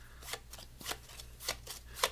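An overhand shuffle of a deck of playing cards gives a run of about six crisp, papery riffling bursts at an uneven rhythm, close and fairly quiet with no talking.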